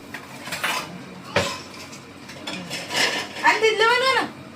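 A metal spoon knocks and scrapes against a cooking pot of vegetable curry during tasting, giving a few separate sharp clinks and clatters close by, with a voice speaking near the end.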